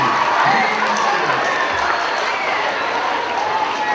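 A middle school audience applauds and cheers at a motivational talk, a dense burst of clapping and crowd noise that is loudest at the start and then gradually eases off.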